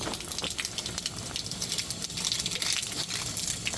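Water spraying and gushing steadily from an RV water line on a hot day, a broad hissing rush that stays fairly constant at moderate level with no voices over it.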